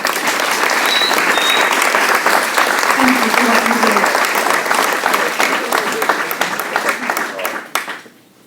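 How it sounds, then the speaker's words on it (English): Loud sustained applause from the audience at a chamber of commerce general meeting, many hands clapping steadily for the sheriff's team before it fades out, with a voice speaking over the tail. "why don't we give them a huge round of applause"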